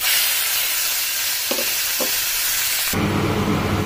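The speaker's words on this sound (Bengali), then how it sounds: "পেঁয়াজটা এখানে ভালোভাবে ভাজা হয়ে গেছে," Onions fry in oil for a Bengali bhetki fish kalia, a loud, dense, steady sizzle with two brief stirring knocks partway through, and the hiss shifting in tone near the end; no one speaks.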